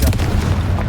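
A Confringo spell explodes in a video game: a single loud, booming blast with a deep low rumble that rings on across the whole moment.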